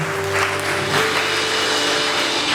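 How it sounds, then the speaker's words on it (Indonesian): A church congregation applauds during a Sunday worship service, a steady, dense wash of clapping at moderate distance with a faint sustained organ or keyboard tone underneath. "Berikan tepuk tangan yang meriah buat Tuhan Yesus."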